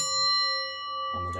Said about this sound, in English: We've got the bell to south box